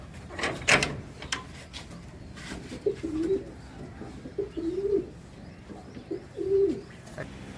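Pigeons coo in three soft, rolling phrases spaced a second or so apart, with a brief rustle and knock near the start over a quiet background.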